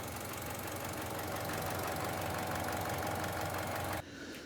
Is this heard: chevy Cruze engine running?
yes